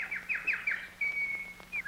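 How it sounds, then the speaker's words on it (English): Birds chirping outside, a quick run of bright repeated tweets followed by a longer whistled note and a final short call, fairly faint and alone. "It's the birds up there making noise"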